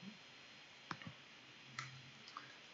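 A couple of faint, sharp clicks from a computer mouse starting a recording on a Windows PC, isolated against a quiet background hiss.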